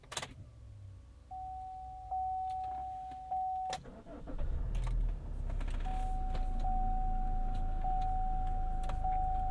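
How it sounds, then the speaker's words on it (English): Starting a 2015 Chevrolet Cruze diesel from inside the cabin: chimes and soft clicks come first, then the engine cranks and catches, settling into a steady low rumbling idle with a warning chime ringing again. "Got that diesel rumble on startup."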